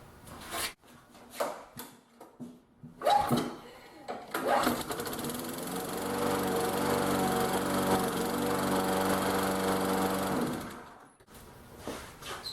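A small lawn mower engine starts after some handling noises, runs steadily and loudly for several seconds, then cuts off.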